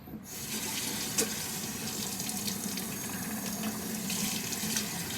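Tap water runs steadily into a sink during rinsing, a continuous close splashing stream with no talking.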